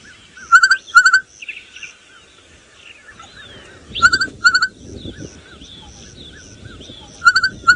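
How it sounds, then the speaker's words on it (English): Loud, ringing duet-like bokmakierie calls in quick repeated pairs of whistled notes, with softer chirps and a low rumbling background between bursts. "What about a bokmakeri? Shall I play you that one?"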